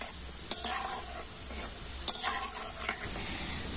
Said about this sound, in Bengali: আর এইভাবে কিন্তু নাড়াচাড়া করে বোঁদেগুলো একটু লাল লাল করে ভেজে নেব।